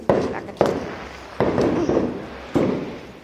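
Several sharp firecracker bangs at irregular intervals, each followed by a crackling decay, with faint voices in the background.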